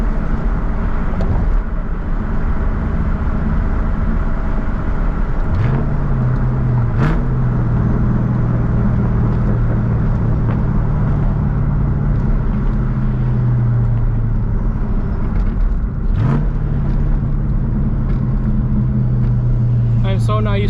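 A 1999-2004 Mustang GT with a Vortech V3-SI supercharger driving on a cool day, with a steady loud engine drone and rumble throughout and a couple of rising whines as it picks up revs, no talk over it.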